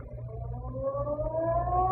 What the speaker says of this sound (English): just as the ferry building siren was announcing 8 o'clock to downtown San Francisco